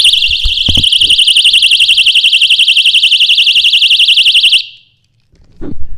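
A piercing personal alarm siren wails loudly with a rapid warbling pulse for several seconds, then stops abruptly, followed by a brief thump.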